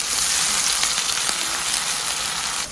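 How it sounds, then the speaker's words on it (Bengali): Ginger garlic paste sizzling and frying with onion in a pan, a steady loud crackling hiss throughout with no voices. "এখন আদা রসুন দিয়ে ভালো করে কষিয়ে নিব।"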